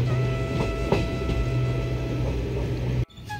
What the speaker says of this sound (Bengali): রাত্রি 8:01 ছেড়ে দিল 12333 বিভূতি এক্সপ্রেস